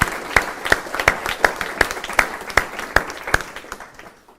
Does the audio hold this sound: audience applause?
yes